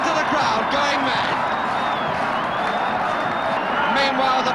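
A football crowd roaring after a goal at a 1970–71 Leeds v West Brom Division One match, a dense, continuous wall of cheering and shouting heard throughout with a commentator talking over it.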